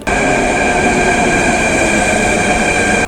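A steady, loud drone of a Delhi Metro train at a station, with a sustained high whine over the broad rumble, holding constant from start to finish with no voices.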